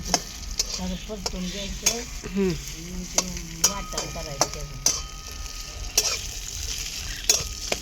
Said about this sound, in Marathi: थोडं तेल टाकू थोडं कांदा टाकून घेते